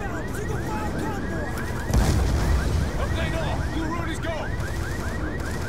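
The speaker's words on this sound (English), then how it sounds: "That alarm is doing my head in." An alarm blares in the Call of Duty: Black Ops 2 campaign, a steady run of repeating whooping tones layered over gunfire and a heavy boom partway through.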